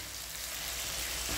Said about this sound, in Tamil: நம்ம வேக வச்சுருக்கேன் அந்த குடலை வந்து இதில் கொட்டிடுங்க.